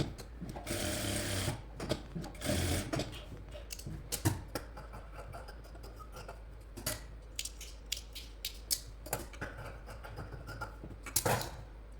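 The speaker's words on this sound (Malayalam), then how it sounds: "എന്നിട്ട് ഇതുപോലെ വെച്ചിട്ട് സ്റ്റിച്ച് ചെയ്തെടുത്താൽ മതിയേ ഡബിൾ സ്റ്റിച്ച് എപ്പോഴും ഇട്ട് കൊടുക്കണേ" A sewing machine runs in bursts, double-stitching the seams of a baby frock's fabric, with steady mechanical whirring and clatter broken by short pauses and clicks, close and fairly loud.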